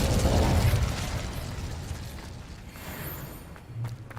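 An Incendio fire spell cast in Hogwarts Legacy, a loud whooshing burst of flame that roars at the start and then fades into a rumbling, crackling tail with a small pop near the end.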